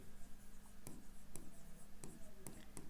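Pen or marker strokes writing out chemistry notes during a Hindi-language NEET exam discussion, several short scratchy bursts spaced irregularly over a steady hum of room noise, fairly close but quiet.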